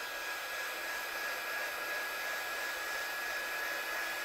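A heat gun blows continuously over wet watercolour paint, a loud, even whooshing hiss with a faint steady whine, running alone without pause.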